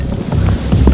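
Wind gusting outdoors during a solo hike in bad weather, a steady close rumbling buffet across the microphone with low surging gusts throughout the short moment.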